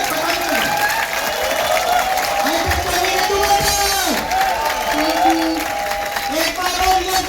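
An audience at a talk applauds loudly and continuously, dense clapping with some cheering over a steady crowd din throughout.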